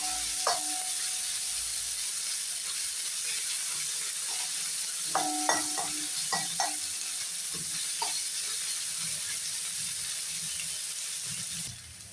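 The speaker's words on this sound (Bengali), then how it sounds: "পেঁয়াজটা ভাজা হয়ে গেছে" Onions frying in a pan for chira pulao (flattened rice pilaf), a steady close sizzle throughout with occasional scraping stirs from a spatula, no voices, ending abruptly.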